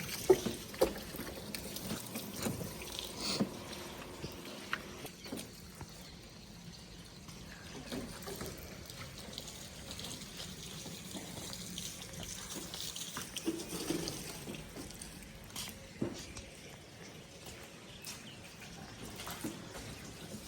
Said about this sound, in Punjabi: ਪਾਣੀ ਮਾਰ ਲਿਆ ਸੀ ਪਾਈਪ ਨਾਲ